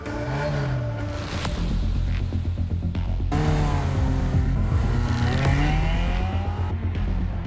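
A Ferrari and a tall riding van launching off the line in a drag race, engines revving hard with rising gear-change sweeps and a brief tire squeal, loud and close throughout with no speech.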